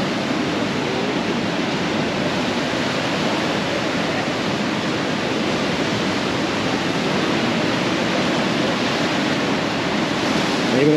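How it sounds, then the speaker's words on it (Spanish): Seawater rushes steadily into a seaside pool in Mazatlán, a loud, continuous wash of surf-like noise close by that holds without pause and with no voices. "esta es la alberca que se llena con el agua del mar"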